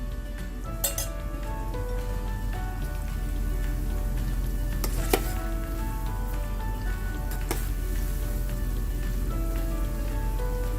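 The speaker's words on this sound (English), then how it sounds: "I'm going to continue to fry these" Gobi manchurian cauliflower florets deep frying in oil, a steady dense crackling sizzle like rain, with a few metallic clinks of utensils against the pan.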